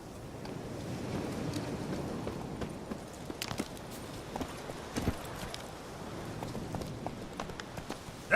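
Roach the horse gallops in a video game, hooves clip-clopping in a steady drumming rhythm over a windy, surf-like outdoor ambience, with a sharper bump near the end.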